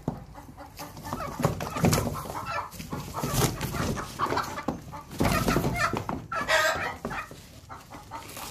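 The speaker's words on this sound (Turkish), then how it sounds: "bu birinci tavuğumuz" A hen clucks close by in repeated bursts, with other fowl calling around her and some rustling in the background.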